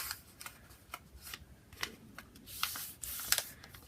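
Scissors snipping through a spare piece of material from an old Fauxbonichi planner cover, a run of short, crisp cuts in irregular rhythm, close and fairly quiet, with no talking.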